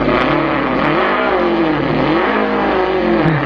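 A voice imitates a revving V6 car engine, a loud, close, continuous droning tone that rises and falls in pitch like throttle blips.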